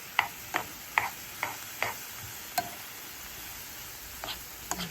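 Spatula stirring scrambled tofu with vegetables in a pan: a series of sharp scraping taps at irregular intervals over a faint sizzle, close and clear with no talk.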